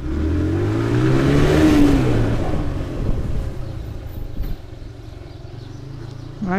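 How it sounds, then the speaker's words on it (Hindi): A Toyota Innova is driven with its engine revving loudly up close, the rising roar peaking early then settling into a steadier lower drone with wind buffeting the microphone. "बच्चा इनोवा चला रहा है"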